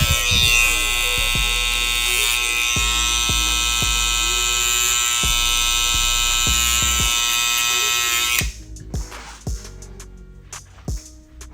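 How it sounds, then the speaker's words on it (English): Electric hair clipper buzzing close and loud through a high taper haircut with braids, with rhythmic taps over the hum, then the clipper stops and quieter handling noises follow. "Place my clipper, just drag out."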